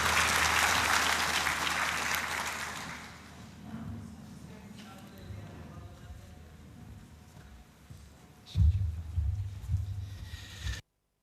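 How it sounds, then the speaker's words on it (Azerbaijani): An audience at an international economics and management research conference applauds, the clapping loud and dense at first and then thinning to a softer patter, with a few louder claps near the end. "Gürültülü alqışlarınızla"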